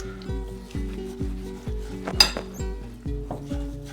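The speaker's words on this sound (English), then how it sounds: "Need to mix all ingredients well." Vine leaf stuffing ingredients being stirred together in a bowl for Turkish yaprak sarma, a steady rhythmic scrape and clatter of a utensil against the dish, repeating roughly twice per second, close and moderately loud with no talking.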